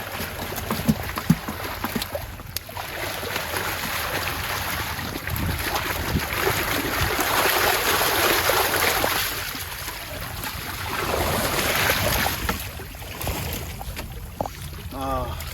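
Fish are washed in water beside a boat, giving continuous sloshing and splashing with swells of rushing water. People talk over it at times.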